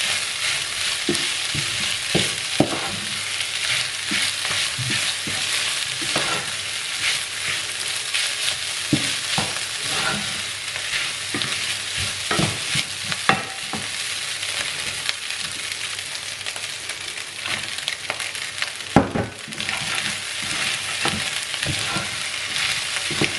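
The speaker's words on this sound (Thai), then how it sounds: "ผัดไม่ไหม้ติดกระทะเลยจ้ะทุกคน" Fried rice sizzles loudly in a hot pan while a utensil scrapes and stirs it in a steady, uneven rhythm, with no talking.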